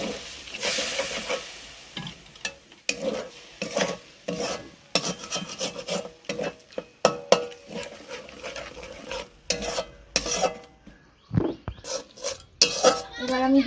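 Jackfruit and potato curry being sautéed in a pan with a splash of water: a long run of scraping, stirring and clinking of a spatula against metal, close and fairly steady, with no one talking.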